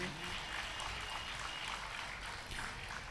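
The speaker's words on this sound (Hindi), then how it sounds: "एक बार ताली आप बजाइए, हमारे यजमान परिवार के लिए बजाओ" Applause from an audience at a Hindu religious discourse, honoring the host family, as a steady broadband patter of many hands clapping continuously for several seconds, fairly faint and distant.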